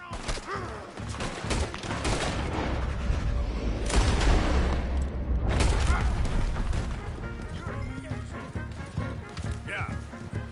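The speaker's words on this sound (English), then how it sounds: "Open fire on him!" Gunfire in Red Dead Redemption 2, with repeated sharp shots and crashes over a busy, continuous background of hooves and commotion, voices shouting over the action.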